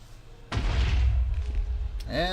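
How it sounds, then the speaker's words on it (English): A creeper explosion in a modded Minecraft game bursts in suddenly as a loud, low boom. A rumbling roar sustains for about a second and a half before it fades. "And there's the explosion."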